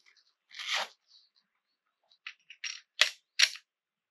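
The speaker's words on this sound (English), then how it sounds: "Then do my mag change." Pistol magazine change during intermediate concealed-carry self-defense drills, done from a kneeling position: a scuffing rustle, then a quick run of four sharp, close metallic clicks and clacks, with no talking.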